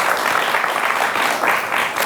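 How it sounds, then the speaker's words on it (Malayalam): An audience breaks into warm applause, a full, steady clatter of many hands that holds at an even level throughout with no voices rising above it. "ഒന്ന് കൈയടിച്ചു കൊടുക്ക്"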